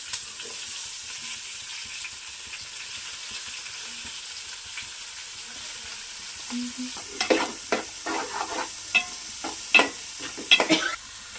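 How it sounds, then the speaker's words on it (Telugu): Chopped onions and green chillies sizzle in a pan for a taro and egg curry, a steady background hiss that builds into louder scraping stirs and sharp crackling bursts toward the end, with no talk. "కట్ చేసి పెట్టుకున్న ఆనియన్స్ అండ్ మిర్చి వేస్తున్నారు"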